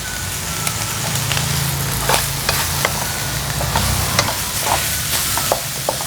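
Pork belly stir-fries with garlic and sliced chili in a hot pan, a loud continuous sizzle broken by sharp scrapes and clacks of a spatula tossing the ingredients, with no voices.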